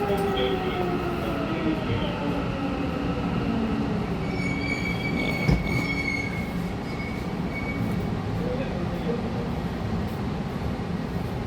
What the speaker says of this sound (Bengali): সামনের থেকে ট্রেন আরটা আসছে